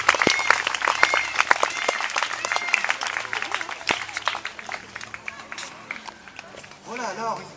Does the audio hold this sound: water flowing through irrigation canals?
no